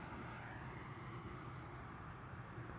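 A ten-year-old EasyJet Airbus A320, arriving at Amsterdam Schiphol from London Luton, makes a steady, unbroken jet roar that holds at an even loudness throughout.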